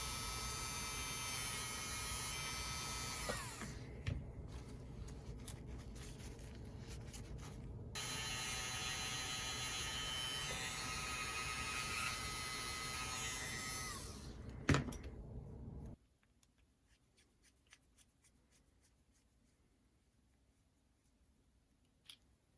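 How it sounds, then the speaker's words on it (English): Contact points for the axles on a Jouef BB 9201 electric model train being buffed, a steady mechanical hum with small scraping ticks for about sixteen seconds, then stopping abruptly and leaving near silence. "So buff the contact point for the axles."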